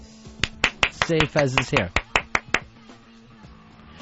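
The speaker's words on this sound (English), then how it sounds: "so people know that you're there, clap." One person in a radio studio claps about a dozen times at an uneven, halting rhythm, sharp close slaps with a voice speaking over the middle of the run before it trails into quiet.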